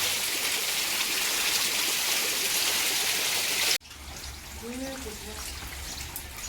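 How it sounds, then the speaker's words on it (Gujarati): Heavy rain roars steadily for several seconds, then cuts to a quieter patter of dripping water with a brief voice in the background. "ચાલુ વરસાદે કેટલો વરસાદ આવતો હતો"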